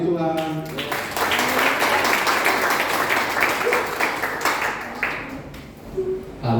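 A church congregation claps for God in sustained, dense applause that fills the space, with voices and cheers mixed in throughout.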